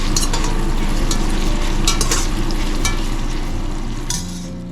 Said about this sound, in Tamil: இது நல்லா வந்து பொன்னிறமாக வதங்கணும்.